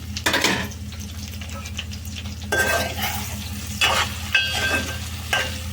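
Bitter gourd pieces fry and sizzle in a pan with a steady crackle, broken by a few sharp scrapes and clinks of a stirring spoon against the pan.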